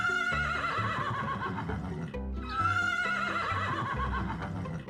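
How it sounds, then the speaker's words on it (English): A horse whinnies in a long, loud, quavering call with a brief pause midway, close and clear, with no talking. "how the vocal cords of horses produce that classic whinnying sound"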